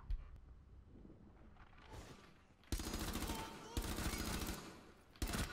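Rapid gunfire in the shooter game Rainbow Six Siege, with loud sustained bursts of shots that start abruptly partway through, pause briefly, then resume, following a quieter stretch of game ambience.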